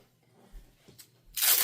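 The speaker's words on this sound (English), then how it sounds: "I'm grabbing a skinnier double-sided sticky tape here." A strip of skinny double-sided sticky tape being pulled, a couple of soft ticks followed by one quick loud rip at the end, close and alone.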